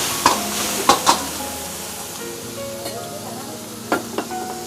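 Onion and tomato fry in oil while being stirred, a constant soft sizzle broken by several sharp clanks of a spoon against the pan, close and alone.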